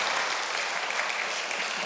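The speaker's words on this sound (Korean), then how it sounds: "감사의 박수 올려드리겠습니다" Applause of thanks from a congregation at a Korean peace blessing ceremony, a steady dense wash of many hands clapping close and loud throughout, with no voices over it.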